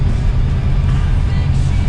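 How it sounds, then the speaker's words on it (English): Interior of a 1937 Chevy cruising gently on light throttle, a steady low engine and road rumble filling the cabin at close range without a break, with a faint voice underneath. "This is not a race car, it's a cruiser, but I'm barely touching the gas"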